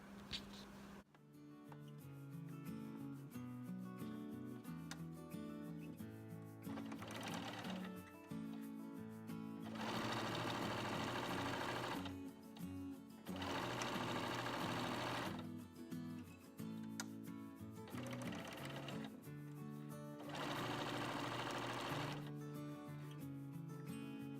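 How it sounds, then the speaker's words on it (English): A sewing machine stitches pink fabric pieces together for a baby quilt, its motor whirring in steady rhythmic bursts that start and stop several times, loud and close with no talking. "sew these two together"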